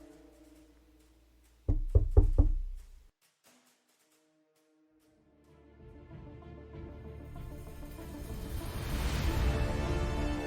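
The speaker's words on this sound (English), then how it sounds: "Suddenly, there was a knock on the door." Three or four sharp knocks on a door in quick succession, loud and close, followed by silence and then a swelling musical or ambient bed.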